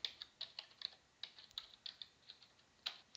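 A computer keyboard is typed on in quick, irregular bursts of crisp key clicks. The clicks are close and faint, with no speech.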